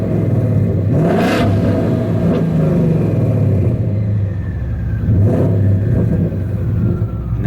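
A Hellion 55mm twin turbo Coyote Mustang GT 5.0 on air ride idles loud and close with its exhaust cutout open. A deep, steady rumble swells in brief blips.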